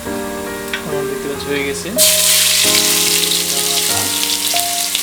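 Ginger and garlic paste hits hot oil in a pan while cooking meat pulao, bursting into a loud, steady sizzle that continues under a short spoken remark from the cook.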